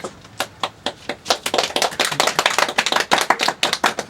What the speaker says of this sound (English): World's saddest clap.